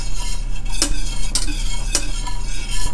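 A whisk is worked by hand through a homemade no-egg vanilla ice cream mixture in a bowl, giving continuous close, wet stirring with sharp metallic clicks against the bowl roughly every half second.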